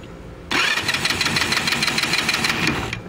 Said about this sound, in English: it should crank the starter, and if there's enough gas in the bowl, it should start.